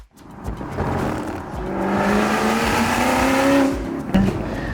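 A powerful supercharged V8 engine of a 2005 Ford GT roars loudly nearby, revving up with rising pitch as it accelerates, then briefly lifts off before pulling again.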